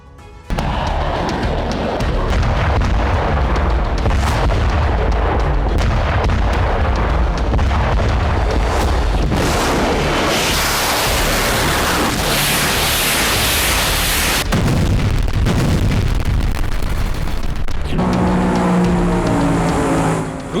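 Artillery shelling in the Russia-Ukraine war, a loud, sustained roar of rumbling blasts and crackling bursts that runs almost unbroken for about twenty seconds without talk.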